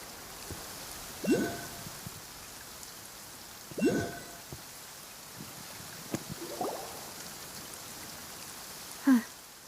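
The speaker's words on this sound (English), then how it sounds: "It's been raining non-stop for a few days now." Rain falls steadily in the video game Genshin Impact, a soft continuous patter with faint drips, under a few short bursts of character voices.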